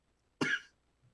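A single short, sharp cough close by, in an otherwise quiet room.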